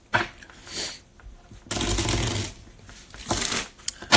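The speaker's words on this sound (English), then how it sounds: "I'm shuffling the cards." Playing cards are shuffled close by in short riffling bursts, one long rustle in the middle and briefer ones around it, with no talk.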